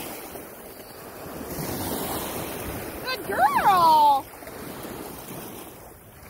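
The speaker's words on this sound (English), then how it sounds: "It's the waves." Ocean waves wash onto a beach in a constant windy roar, with a person briefly praising a dog over the surf and a short whine-like cry.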